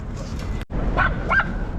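A dog in a New York City setting gives two short, close yips or barks in quick succession, with a brief gap of near silence just before them.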